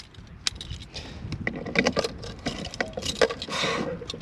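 Key working the lock of the diesel filler cap on a 2008 Bessacarr E410 motorhome, giving close metallic clicks, jangles and scrapes in an irregular run of short bursts.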